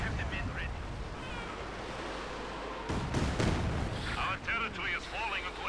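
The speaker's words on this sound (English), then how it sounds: "Quick barrage here from the Katyusha." A Katyusha rocket barrage in the World War II strategy game Company of Heroes 2 rolls in as rumbling, booming impacts over constant battlefield noise, with a commentator's voice running over it.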